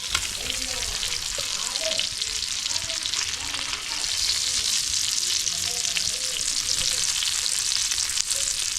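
Fish fry in a pan with a dense, continuous hiss and crackle of hot oil, loud and close throughout, with faint background sounds and no clear speech.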